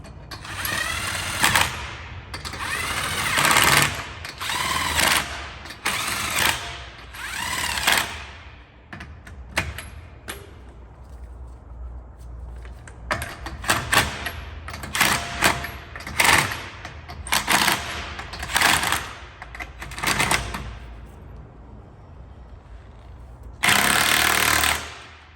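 Impact wrench with a 21 mm socket working wheel lug nuts on a 2011-2013 Infiniti M37S, loud rattling bursts of hammering repeated in short runs with quiet gaps between.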